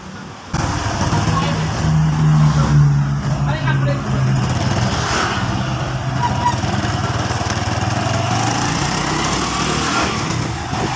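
Honda Revo motorcycle engine running after being assembled, a steady loud mechanical drone that starts about half a second in and holds evenly to the end, with some background speech-like noise.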